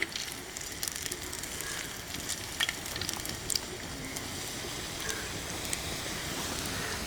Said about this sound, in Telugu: ఈ విధంగా వేసుకుంటూ చక్కగా రెండు పక్కల కాల్చుకోవాలండి.